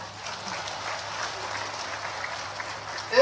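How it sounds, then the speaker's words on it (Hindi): A crowd of men claps at an outdoor political rally, a steady, moderately loud patter of applause from a large audience, ending with a voice cutting in. "जोर से ताली बजा रहे थे पुरुष जरा, इस बार जोर से बजाओ"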